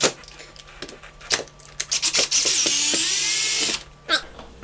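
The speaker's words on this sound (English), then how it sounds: "I'm just going to put this drill in just a little bit" A power drill pre-drills and drives a screw for a swing-out cantilever TV bracket, with short trigger bursts followed by a sustained whining run of about a second, then a final brief burst, close and loud.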